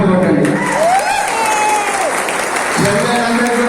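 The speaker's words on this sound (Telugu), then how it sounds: "చెల్లెలందరికీ కూడా గట్టిగా చప్పట్లు కొట్టండి ఒకసారి." A large crowd claps loudly and steadily at a political speech in Sircilla. A speaker's amplified voice rises over the applause.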